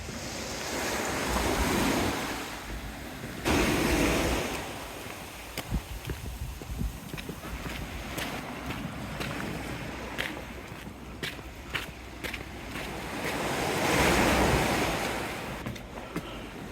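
Sea waves surge and break along the Teignmouth seafront, with rushing swells rising and falling over a continuous wash, wind buffeting the microphone and scattered clatters from stones on the shore.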